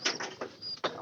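Soft pigeon coos from a loft of sick pigeons, a few low murmuring calls close by with brief breaks between them, and no talk over them.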